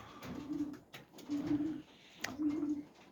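Pigeons cooing close by in a loft, three soft repeated coos in a steady rhythm with faint rustling between them.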